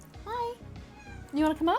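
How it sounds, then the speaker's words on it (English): A cat meows twice in quick succession, close and fairly loud, after a person speaks softly to it; light household background underneath. "Sorry, I have a cat here. I don't know if you could hear him crying."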